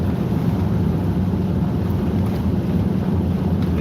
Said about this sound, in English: It gets kind of windy